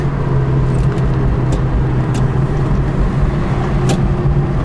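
A 1974 Plymouth Barracuda with a 318 two-barrel V8 cruises along, giving a steady, loud engine drone and road rumble with no break throughout.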